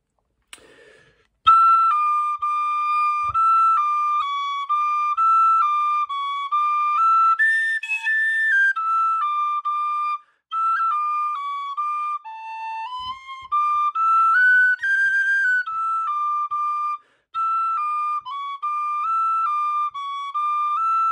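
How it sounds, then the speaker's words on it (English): An Irish tin whistle plays part B of the first Ballydesmond Polka as a bright, lively solo melody, phrased in short runs with brief breath gaps, close and clear with no accompaniment. "here's a short little video all about part B of the first Ballydesmond Polka. It sounds like this."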